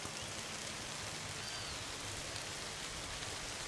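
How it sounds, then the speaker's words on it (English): Light rain falls steadily in a Brazilian forest, a constant close hiss of drops on leaves with no pauses and no other sounds standing out. "It's starting to rain a little."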